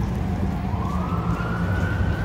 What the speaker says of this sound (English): Now you hear sirens, emergency vehicles responding to emergencies.